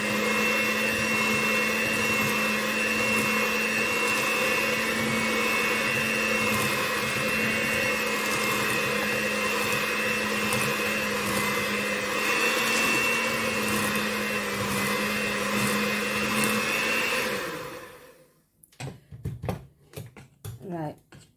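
An electric mixer whirs steadily and loudly for a long stretch while beating red velvet cookie dough, then cuts out, leaving a few clicks and knocks.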